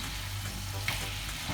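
Curry salmon sizzles steadily in a frying pan just after being flipped, a soft, even crackle with a faint stirring scrape and no voices.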